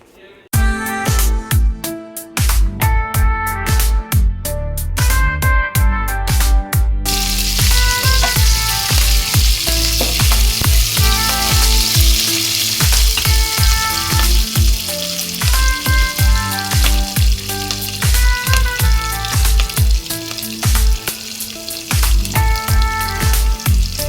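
Tempering spices with turmeric crackle and pop sharply in hot oil for a chutney, a loud continuous sizzle with rapid spattering bursts, no voices over it.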